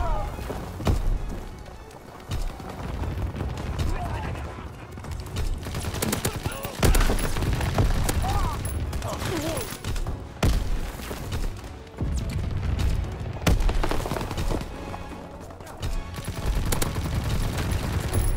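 Flak anti-aircraft guns firing in Call of Duty WW2, a dense, continuous barrage of overlapping shots and booms, loud and close, with bursts swelling and easing across the stretch.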